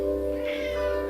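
A house cat meows once, a soft, drawn-out call close by, over a steady low electrical hum in a quiet yoga room.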